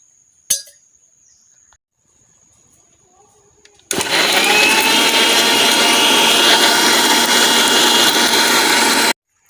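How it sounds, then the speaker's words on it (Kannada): After a single clink and near silence, a mixer grinder starts abruptly and grinds tomato rasam masala with water, producing a loud, steady, close whirring roar for about five seconds before it cuts off. "ಈಗ ನಮಗೆ ಇದಕ್ಕೆ ಅಗತ್ಯ ಇರುವಷ್ಟು ನೀರನ್ನು ಸೇರಿಸಿಕೊಂಡು ಚೆನ್ನಾಗಿ ಗ್ರೈಂಡ್ ಮಾಡಬೇಕು"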